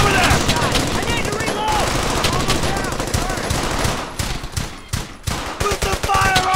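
Sustained automatic gunfire and rifle shots in the World War II shooter Brothers In Arms: Hell's Highway, dense and loud throughout with bursts overlapping, under shouted voices giving orders.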